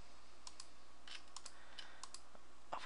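Sharp, faint clicks sound at a computer during graphics editing work, arriving singly and in quick pairs at an uneven pace against quiet room tone, with no one talking.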